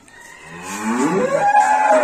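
A ranch cow with her newborn calf, bedded on stubble over a cement floor, gives one long, loud, close moo that swells and rises in pitch, with no talking.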